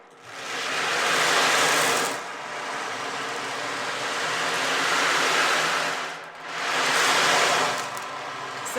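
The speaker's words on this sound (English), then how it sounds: "It's called an ocean wave drum." An ocean wave drum rolls its beads in two long surging swells that rise and fade like breaking surf, close and fairly loud with no talking.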